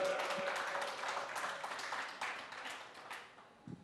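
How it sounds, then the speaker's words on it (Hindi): An audience at an interview event claps in a scattered burst that fades away over a few seconds, fairly quiet and without talk over it. "पहले बजा लो, ताली बजा लो पहले।"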